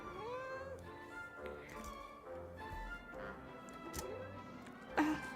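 A cat meows in a video game, several short rising mews spread through the stretch with a louder one near the end, over quiet game sounds and background voices.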